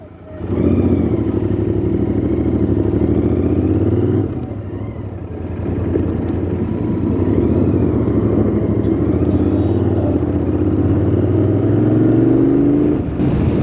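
A Royal Enfield GT 650 motorcycle pulling away after refuelling: a loud, close engine note that rises through revs, dips briefly as it shifts, then builds again into a steady, throaty drone with rising pitch toward the end.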